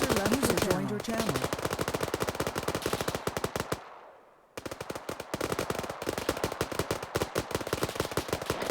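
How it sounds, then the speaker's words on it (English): Rapid automatic gunfire in the video game Operation Desert Storm, dense bursts of shots close and loud, breaking off briefly near the middle before resuming. "Someone started firing, so I just started firing."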